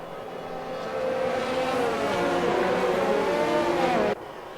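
Race car engine droning steadily in a racing video game at Albert Park, a sustained revving whine that holds for about four seconds before cutting off abruptly, close and fairly loud.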